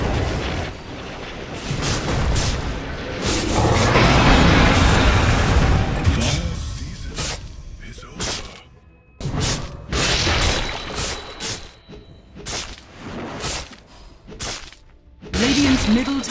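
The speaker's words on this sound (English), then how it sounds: "Dire's middle tower is under attack." Towers under attack in a Dota 2 match give a dense barrage of booming, explosive impacts and mechanical clatter, swelling into a loud continuous roar and then breaking into rapid sharp hits, with talking at times.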